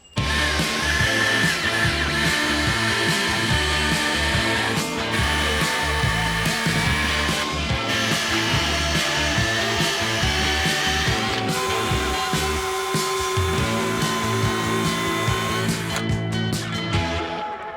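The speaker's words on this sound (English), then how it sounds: "So let's go drill some holes" A power drill whirs loudly and steadily for a long stretch, drilling holes in an RV leveling jack pad, motor pitch dipping and rising in bursts as it bites into material.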